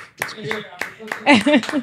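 A few sharp hand claps pop in a quick, uneven burst, mixed with loud excited voices close by.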